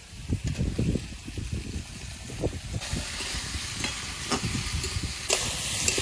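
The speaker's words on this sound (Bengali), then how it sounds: "সবজি ভালো করে ভেজে নিয়েছি" Vegetables frying in a pan with turmeric, a close continuous sizzle and crackle with rhythmic scraping and stirring strokes throughout.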